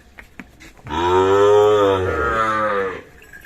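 A Sahiwal bull lets out one long, loud, close moo lasting about two seconds.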